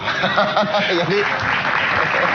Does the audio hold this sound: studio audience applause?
yes